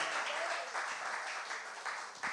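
A church congregation applauds during a Portuguese-language sermon, a steady, dense wash of clapping that holds at moderate level for the whole stretch.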